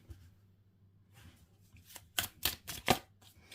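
After a quiet stretch, a deck of tarot cards is shuffled in several quick, crisp riffling bursts close by.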